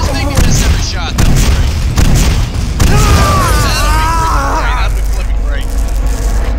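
Gunfire in the video game Painkiller, loud booming shots in irregular bursts with mechanical clanks, mixed with sound effects and a voice talking over it.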